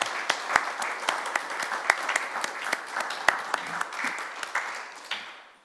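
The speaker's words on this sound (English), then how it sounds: "Can we just give another round of applause to Caleb?" An audience gives author Caleb Azumah Nelson another round of applause at a book event, a modest crowd's clapping with distinct individual claps popping out, fairly close, steady at first and then fading away toward the end.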